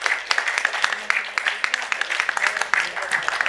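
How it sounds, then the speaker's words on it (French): Audience applause at a live art talk on women and contemporary African art, a fairly close patter of many hands with distinct individual claps and faint voices underneath. "j'aimerais qu'on applaudisse aussi beaucoup pour son travail"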